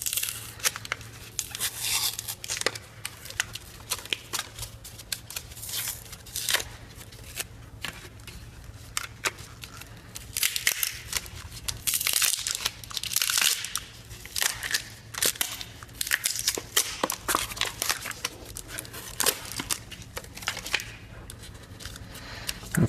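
Paper wrapping is torn off a hoverboard battery pack close to the microphone, giving repeated bursts of ripping, crinkling and crackling that come and go irregularly over a low background hum, with no voice.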